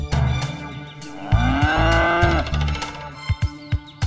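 A buffalo moos in a garden with a mud pool, one long, loud, drawn-out bellow close by, followed by a few short thumps and knocks.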